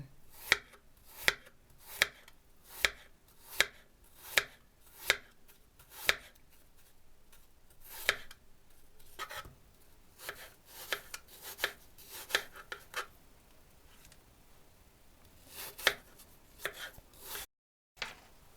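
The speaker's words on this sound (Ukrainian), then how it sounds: "І тепер буду теж тоненькими нарізати скибочками." A knife cutting an onion into thin slices on a board, a long run of crisp, evenly spaced chopping strokes, close and clear, that grows quicker and more irregular midway.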